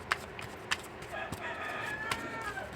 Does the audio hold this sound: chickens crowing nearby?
yes